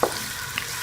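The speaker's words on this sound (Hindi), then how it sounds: "इसके अंदर हम प्याज का पेस्ट शामिल कर लेंगे और इसे हल्का सा गोल्डन होने तक फ्राई कर लेंगे।" Onion paste fries in hot oil with a steady close sizzle and a couple of brief clinks from stirring over one short moment.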